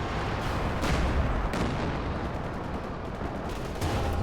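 Gunfire and booming artillery in a tank battle video game featuring a KV-2 with its ML-20 gun, a dense wall of loud shots and heavy blasts with a few sharp booms standing out over continuous rumble.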